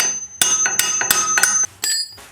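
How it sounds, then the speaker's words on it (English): Sharp metallic hammer strikes on a Subaru GL axle nut to loosen it ring out one after another, about seven hits in an uneven rhythm, close and loud with bright ringing tails. "a few love taps with the hammer has knocked our nut loose."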